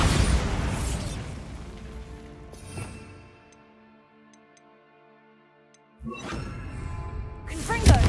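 A Bombarda blasting spell goes off in a video game, opening with a dense burst of noise that fades into a ringing, tonal hum before a second loud blast erupts near the end. No one speaks.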